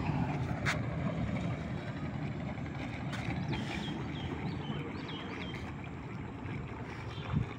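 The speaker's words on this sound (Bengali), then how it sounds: "বিশাল একটা লঞ্চ আসতেছে দেখুন" A large passenger launch approaches the Boga ferry ghat near Barisal and Firozpur, heard as a steady low engine and water rumble with wind noise outdoors and a few faint chirps over it.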